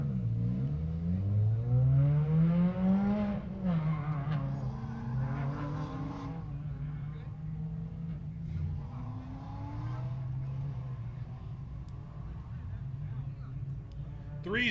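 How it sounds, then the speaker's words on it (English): A yellow Corvette revs hard and accelerates through an autocross course, engine rising and falling in pitch through shifts, with tires working under a steady announcer voice throughout. "Yellow Corvette back out there, Jeff Dobbins."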